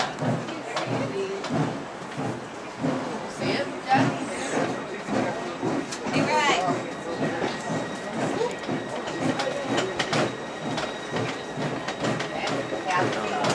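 A steam train pulled by 2-6-2 Engine No. 4 clatters along the rails in Laona, Wisconsin, with rhythmic clicks and rumbling, while people talk over the running noise.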